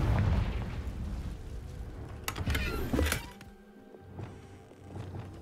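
Confringo fire spell from Hogwarts Legacy bursting in a heavy, booming explosion, with a sharp crackling blast midway that fades into a rumbling, dwindling tail.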